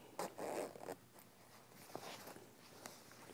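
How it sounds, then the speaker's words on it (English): A sewn bag's zipper is unzipped by hand in a quiet sewing room, a short close rasp with a brief second pull, followed by faint handling sounds. "and I'm going to unzip my zipper"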